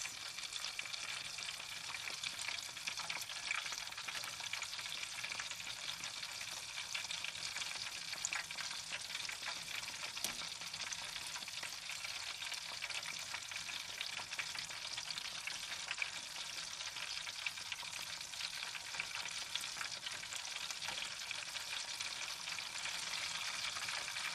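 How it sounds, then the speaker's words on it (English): Food sizzles steadily in hot oil while being cooked in a tiny Ram ProMaster City van, a dense, even crackle that holds at moderate level throughout with no voices. "The more you fry, the less time it takes."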